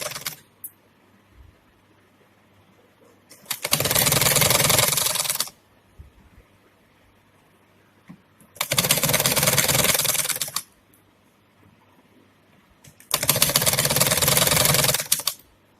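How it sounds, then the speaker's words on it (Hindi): A sewing machine stitches a dress for Kanha Ji in three loud, steady bursts, each lasting about two seconds, with quiet pauses and a few faint handling clicks between them. "इसी तरह से मैं दूसरी तरफ का जो पार्ट है उसको भी सिल लूंगी।"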